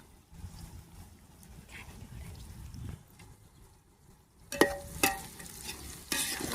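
Onions and mint sautéing in a pan for Andhra biryani, a soft steady sizzle and stirring scrape, with sharper clatters of the spoon against the pan toward the end.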